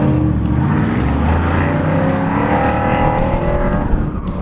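Race cars in a CAM-T heat at ZMax roar continuously at close range, engines droning and shifting pitch, with tire squeal mixed into the dense, steady loudness.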